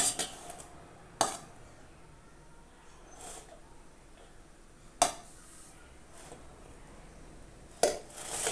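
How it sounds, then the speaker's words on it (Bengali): Cooked rice is served onto plates at home, with a few sharp clinks of metal utensils against dishes at intervals over a quiet background, and no speech. "এবার থালায় থালায় বেড়ে নেব ভাত, তারপরে খাবো।"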